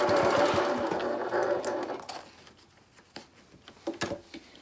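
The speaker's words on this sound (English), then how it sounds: "I'm just going to go ahead and sew it together." A sewing machine runs steadily stitching fabric for a laptop bag, loud and close for about two seconds, then slows and stops, leaving faint clicks and handling sounds.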